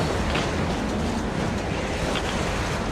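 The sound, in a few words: blizzard wind in the video game Metro Exodus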